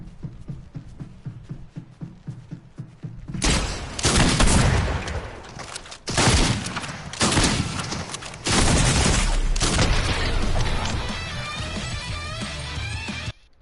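Pump shotgun blasts in a Fortnite solo match, several loud sharp bursts in quick succession separated by short gaps, followed by sustained noisy gunfire and clattering effects.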